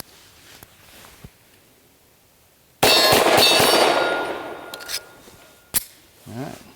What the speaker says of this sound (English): P8, this thing's shooting like a champ, shooting great